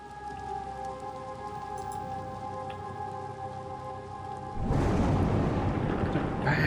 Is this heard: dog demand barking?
no